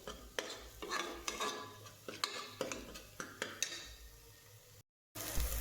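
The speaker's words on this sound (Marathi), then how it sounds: "तर सर्व मसाला मी छान परतवून घेतली" Spice masala being stirred and sautéed in a pan for a spicy mutton rassa curry: repeated scraping and clinking strokes of a spoon against the metal pan, close and steady, with a faint sizzle beneath.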